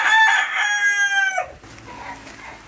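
A rooster at a chicken coop lets out one loud, close crow with a long drawn-out final note that breaks off abruptly, followed by quieter clucking and farmyard ambience.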